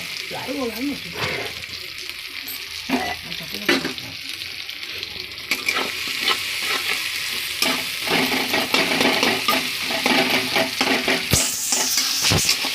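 Tomatoes frying in a pan for a tomato dal, a steady sizzle broken by scraping stirs and utensil clatter, close and moderately loud throughout.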